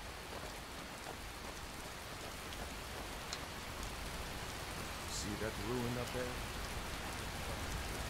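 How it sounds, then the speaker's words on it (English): Steady, dense rainfall in the video game Skyrim hisses evenly throughout, with a faint voice murmuring briefly partway through. "Oh, fucking raining."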